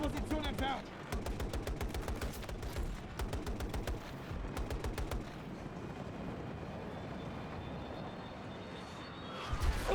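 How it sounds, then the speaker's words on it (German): Rapid bursts of automatic gunfire in the video game Battlefield 2042, with several fast volleys in the first half followed by a rumbling battle background and voices in between. "Die schießen auf uns!"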